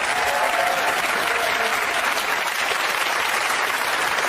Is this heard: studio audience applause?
yes